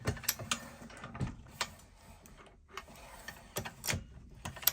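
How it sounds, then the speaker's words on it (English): Dillon XL750 reloading press set up for 9mm, cycled several times: a series of sharp mechanical clicks and clunks as the shell plate indexes, close and fairly quiet, with no talk. "go ahead and cycle it a few times and make sure that that shell plate is moving correctly"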